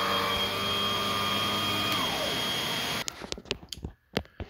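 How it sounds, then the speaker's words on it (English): A Tristar A101S vacuum cleaner with its power nozzle switched on runs with a loud, steady whine for about three seconds, then cuts out into sharp clicks and brief knocks. "Now we got the hose on. Turn the power nozzle on."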